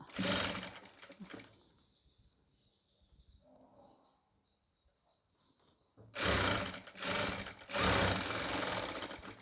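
A sewing machine stitching a nighty runs in fast, clattering bursts at the start and again near the end, with a quiet pause in between; the machine is close and fairly loud against a soft room background.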